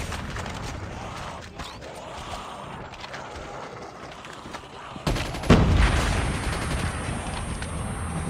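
SKS rifle fire in a multiplayer video game, rapid loud shots that swell into a heavy burst about midway, echoing over steady background game noise.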